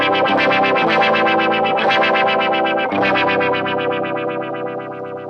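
Electric guitar run through a Triungulo Lab Harafna LFO low-pass filter pedal, loud strummed chords with a rhythmic pulsing sweep, sustained and fading slightly toward the end, no talk.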